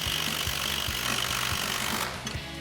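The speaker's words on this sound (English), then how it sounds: "we're going to tighten these down using a 15mm open-ended wrench for your lock nut and a 6mm Allen socket on an impact for your Allen head bolt" An impact wrench with a 6mm Allen socket hammers an Allen head bolt tight on a Jeep Wrangler JL suspension lift, a rapid rhythmic rattling burst that stops near the end.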